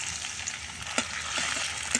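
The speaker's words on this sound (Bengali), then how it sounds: "তেলটা গরম হয়ে গেছে, এবার আমি দিয়ে দিব পেঁয়াজ কুচি।" Chopped onions fry in hot oil in a wok, giving a steady close sizzle with a few crackling pops and stirring scrapes.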